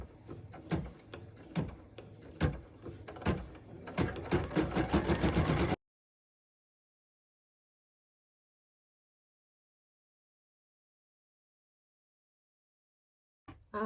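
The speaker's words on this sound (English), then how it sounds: "we can go ahead and stitch the tack down line" A sewing machine stitches a tack-down line on a quilt block, a quick rhythmic mechanical clatter that speeds up over about six seconds, then long silence and a brief restart at the end.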